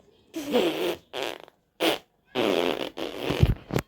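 A person jokes around by mimicking fart sounds with their mouth, giving a handful of short, close, fairly quiet bursts separated by brief silences.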